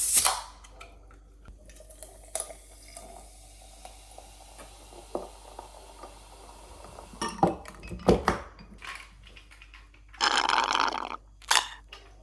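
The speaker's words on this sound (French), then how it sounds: "je viens de mettre les glaçons" Ice cubes dropped into a drink in a home, giving scattered clinks and clatters of ice against glass or a can, with a louder burst of rattling near the end, close up and without talk.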